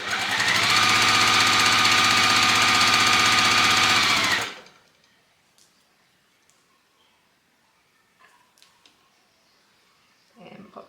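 A sewing machine stitches quilt pieces together, a loud continuous mechanical whir for several seconds that stops abruptly, followed by faint fabric handling.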